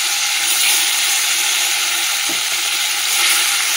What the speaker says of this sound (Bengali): মাছটা আগে ভেজে নিচ্ছি।